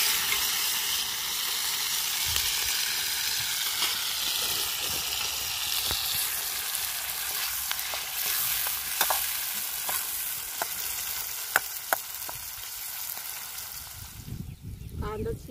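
A mix of onion, tomato, chili and garlic frying in a pan gives a loud, continuous close sizzle, with a few sharp clicks from a utensil near the end.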